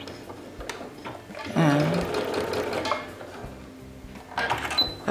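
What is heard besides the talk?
sewing machine back stitching a seam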